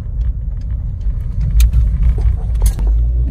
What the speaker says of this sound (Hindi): जब तक मैं वो गाड़ी रिकॉर्ड करती तब तक वो चला गया।